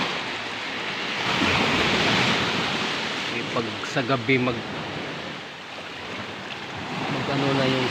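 Strong sea waves during Typhoon Kristine produce a constant loud roaring wash of surf and wind, with a person talking over it partway through.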